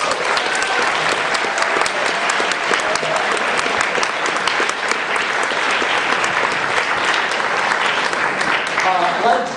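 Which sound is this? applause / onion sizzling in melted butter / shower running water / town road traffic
applause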